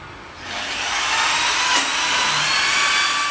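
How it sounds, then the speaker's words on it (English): A power drill fitted with a large diameter bit bores into the corner of a foam seed germination chamber, a steady whirring grind that ramps up and holds for a few seconds, close and fairly loud with no voices. "we're just going to use a large diameter drill bit and go right into the corner."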